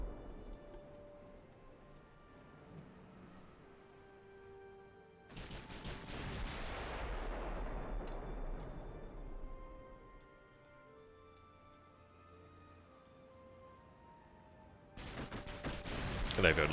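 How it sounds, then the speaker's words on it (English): Battleship main guns firing in the naval game Ultimate Admiral: Dreadnoughts, a six-turret super-dreadnought: a heavy broadside boom that rumbles and decays over several seconds, then another loud salvo near the end, over a quiet ambient bed. "it looks like we can fire all the main armament now"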